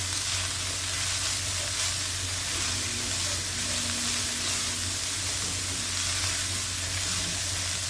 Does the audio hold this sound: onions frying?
yes